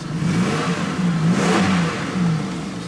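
A Chevy Express van engine running on bad gas revs steadily under throttle, with a sustained, wavering mid-pitched drone that swells and settles over a few seconds, close and loud with no talking.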